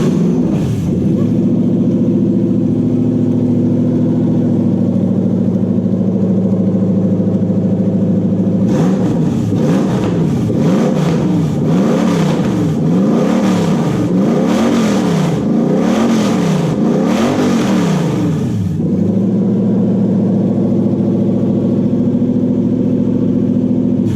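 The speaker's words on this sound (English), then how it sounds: "let's fire it up one more time before we call it a day" A Toyota 1UZ-FE V8 fitted in a Daimler runs loudly close up, idling at first, then revved hard in a series of rising and falling bursts before dropping back to a steady idle.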